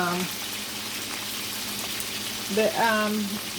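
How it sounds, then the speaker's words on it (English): Dumplings frying in hot oil for a Jamaican-style breakfast, a steady close sizzle with brief bits of a voice at the start and near the end. "Then I start frying the dumpling."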